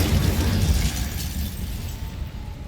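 An Incendio fire spell from Hogwarts Legacy erupts in a roaring, crackling blast that is loud at first and then fades into a softer rumble over a few seconds.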